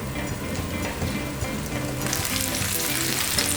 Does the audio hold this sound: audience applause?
no